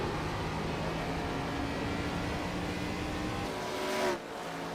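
ARCA Series race car engines drone at a steady pitch coming down pit road at Richmond Raceway, with a brief swell as one passes nearby before the sound settles lower.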